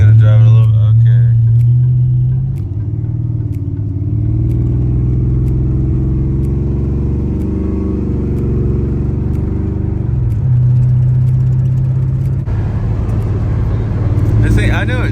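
A C4 Corvette engine drones and rumbles from inside the car as it drives, its pitch rising and holding during acceleration before dropping back to a steady idle-like hum.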